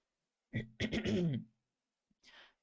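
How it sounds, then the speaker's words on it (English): A short burst of throat clearing and coughing up close, followed by a brief quieter cough or rasp after a pause. "Sorry, I have a little cough."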